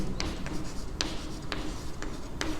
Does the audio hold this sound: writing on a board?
yes